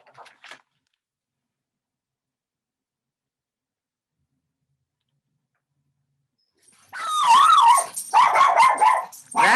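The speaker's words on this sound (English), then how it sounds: "That dog, he has a lot of opinions." A dog barks in a quick, loud run of excited yaps and howl-like cries after a long near-silent stretch, with only a faint brief sound at the very start.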